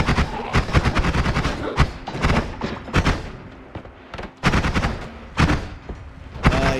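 Sniper fire in Noita cracks out in a long series of sharp, loud, closely spaced shots and thumps, with a few brief lulls between clusters of blasts.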